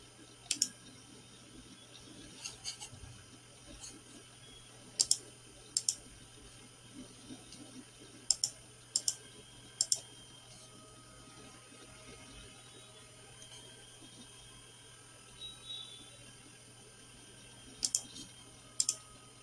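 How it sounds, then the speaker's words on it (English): A computer mouse clicks sharply now and then, single and double clicks spaced out over a faint steady background hum, close and fairly quiet. "Here you have to click in that error"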